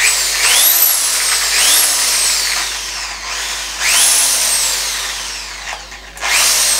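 A cheap electric drill runs in short bursts, its whining motor rising sharply in pitch as each trigger pull spins it up and then winding down, repeated about five times, loud and close with no talk.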